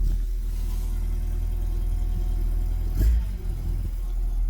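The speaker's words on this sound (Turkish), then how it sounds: "Biraz çalışsın araba kendine gelsin." A Tofaş Şahin car idles to warm up in the cold, giving a steady, close, low engine drone with one brief bump partway through.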